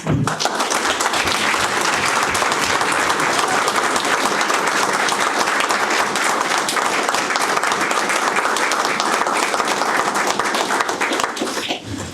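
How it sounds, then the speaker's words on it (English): Steady, enthusiastic audience applause for schoolchildren at a school board meeting, many hands clapping together at full volume for about twelve seconds before trailing off slightly at the end. "give our kids a round of applause"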